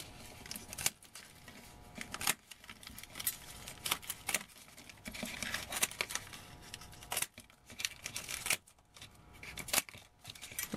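Scissors snip through rolled paper stakes on a basket base, a quiet, irregular run of close cuts and paper rustles with brief pauses between trims.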